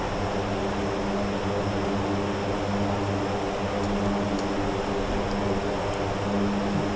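C-130 Hercules turboprop engines in the DCS combat flight simulator, a steady, loud propeller drone with layered low harmonic hums that continues without a break and has no voices over it.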